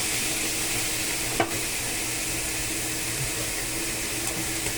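Bite-size chicken pieces frying in a pan, a steady dense sizzle with occasional stirring scrapes, close and continuous with no voices.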